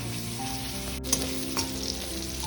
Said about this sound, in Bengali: 2-3 মিনিট ধরে আমি নাড়িয়ে নাড়িয়ে ভেজে নেব।